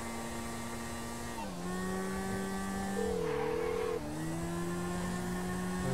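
A motorbike engine in Grand Theft Auto V climbs steadily in pitch as it speeds up, with a brief dip and a surge, a constant close engine drone running throughout with no talk.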